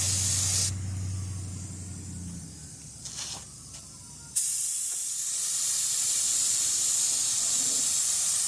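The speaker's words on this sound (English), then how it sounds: "And this is our first coat of primer." Spray gun laying a first coat of primer on a 1995 Ford F250 front end body, a steady airy hiss that cuts out briefly and resumes, with a low compressor hum underneath at the start.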